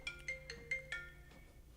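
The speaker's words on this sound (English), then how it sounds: "It was a phone call." A mobile phone rings with an incoming call, sounding a quick series of bright, melodic tones in a repeating pattern, fairly close and clear with no talk over it.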